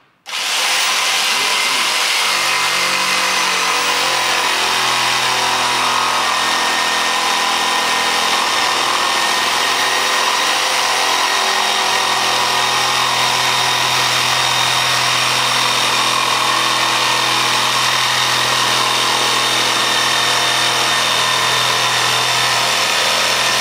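A power saw cuts through a thick wooden board about 4 to 5 cm deep, a loud continuous whining buzz that runs steadily for the whole stretch with a slowly shifting low motor tone.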